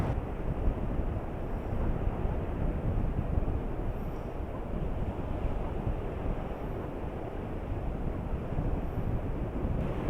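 Big ocean waves crash and surge against a rocky edge at high tide on a blustery day, a continuous loud roar of churning water mixed with heavy wind buffeting the microphone, with no voices.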